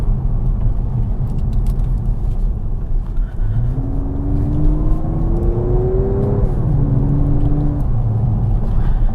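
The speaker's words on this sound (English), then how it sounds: "That engine is super smooth and responsive, and as nice as that engine is to listen to" A 2015 Audi S5 Sportback Black Edition engine drones steadily while driving, with a smooth rising whir as it pulls through a gear, dipping briefly before settling again over a low road rumble.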